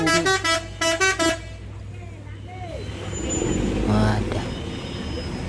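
A Safari Dharma Raya bus in a bus simulator game, leaving and entering at Pondok Pinang, gives several short, loud horn blasts in a rhythmic pattern, then a rumbling engine and hissing brakes take over.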